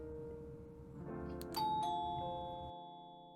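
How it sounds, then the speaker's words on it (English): Doorbell in the horror video game Cold Front on a cold winter evening, a bright two-tone chime ringing once over a low rumbling background, clear and fairly faint, then fading out. "a bright doorbell echoed throughout the house"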